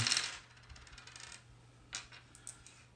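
Dice rattle and clatter onto a table during a boxing board game, one sharp tumbling burst at the start, then a few lighter ticks as they settle, alone and close.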